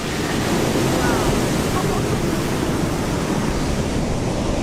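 Steady roar of ocean surf, a broad continuous wash of breaking waves with wind-like hiss, loud and unbroken throughout.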